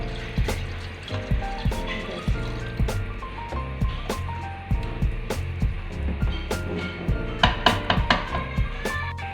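Water pours and splashes into a cooking pot of chicken matar curry with uneven gurgles and small knocks, the pitch gradually rising as the vessel fills.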